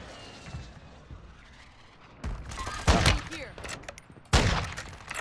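Video game gunfire: several loud, sharp bursts of shots and blasts at close range, separated by quieter stretches, with players talking in between.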